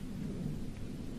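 A thunderstorm rolls with heavy rain, a dense, steady low rumble and hiss filling the whole short stretch without pauses or voices.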